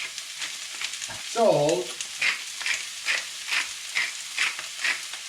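Vegetables sizzle and hiss in a hot stir-fry pan with seafood, the frying loud and close, with a rhythmic pattern of tossing pulses roughly every half second and a brief spoken word early on.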